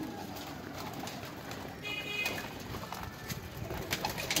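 Paired Teddy pigeons coo softly and repeatedly at close range, their low throaty calls rolling over steady background noise with no talking.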